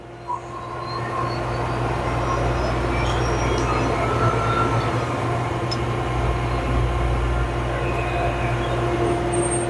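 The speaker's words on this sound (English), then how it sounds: "Right now it's doing a blower test." A TurboChef oven's blower runs during a self-test on a unit with a damaged high-voltage transformer, spinning up quickly to a loud, steady, close whirring roar with a constant hum underneath and no talking.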